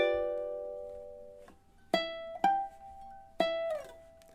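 A ukulele plays a few bars of a song: a ringing opening chord, then separate plucked notes and chords at a slow, even tempo, near and clear with no voices.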